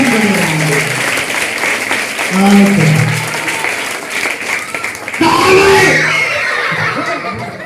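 Audience at a puppet show in Christurajupuram, Vijayawada, claps loudly and steadily throughout, with voices, shouts and some laughter mixed into the applause.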